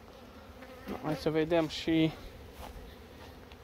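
Honey bees hum steadily around a hive in an apiary, a close, even drone that runs under a short stretch of a man's speech.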